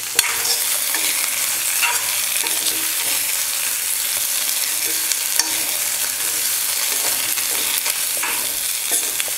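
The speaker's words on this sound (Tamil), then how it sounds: "உருளைக்கிழங்கு சேர்த்ததுக்கப்புறம் கொஞ்ச நேரம் வந்து இந்த எண்ணெயில் வந்து நல்லா வதக்கிக்கலாம்" Potato pieces sauté in hot oil after onions have softened, giving a steady close sizzle broken by frequent scraping stirs of a spatula in the pan.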